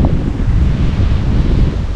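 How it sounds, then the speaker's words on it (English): Storm wind roars beside the Cowlitz River, a loud, steady rushing gust that buffets the microphone with deep rumbling noise throughout, with no voices heard. "It is literally storming out here."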